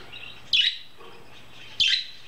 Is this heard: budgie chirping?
yes